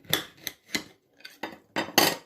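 A knife slices through a lemon in about six short, crisp cuts and taps against a surface, close and moderately quiet, with brief silent gaps and no talking.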